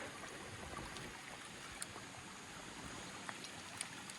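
A waterfall on Lal Lal Creek gives off a steady, soft, broadband rush of falling water, heard from near the edge on wet, rocky ground, with no voices over it.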